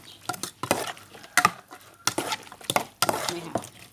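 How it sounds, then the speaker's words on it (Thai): A spoon stirs roasted rice, shallots, spring onion and coriander into a Thai pork salad, giving repeated scraping and clinking strokes against a bowl in a steady rhythm, close and fairly quiet. "แล้วก็ใส่หอมแดงใส่ต้นหอมผักชีเข้าไป แล้วก็คนให้เข้ากัน"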